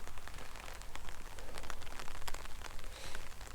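Steady rain patters onto an umbrella and wet ground at Drumskinny Stone Circle in County Fermanagh, a close, dense hiss with scattered heavier drops throughout and no talking.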